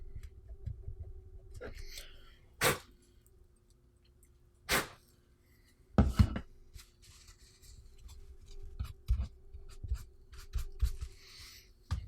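Material is scraped off to clean the center of a surface, giving intermittent close rasping strokes with a few sharp scratchy bursts and soft handling noises between them.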